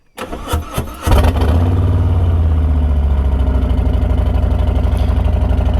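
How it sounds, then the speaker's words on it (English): A motorcycle being started at a dyno-tuning session: a few cranking bursts, then the engine catches and settles into a steady, loud, close idle that runs to the end, with no talk. "We're going to start the bike."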